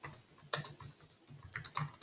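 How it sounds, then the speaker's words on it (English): Typing on a computer keyboard, a quick irregular run of light key clicks close by and fairly quiet, with no talk. "I'm just typing"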